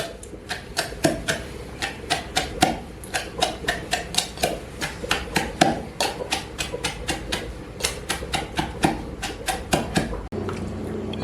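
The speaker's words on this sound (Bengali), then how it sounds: "মশলাগুলো আমরা এবার ধুয়ে নিয়েছি ধুয়ে নিয়ে এবার ঠুঁকতে স্টার্ট করব" Spices pounded by hand for a country duck curry, heard as a steady run of sharp, evenly spaced thuds, close and loud, continuing for several seconds before stopping.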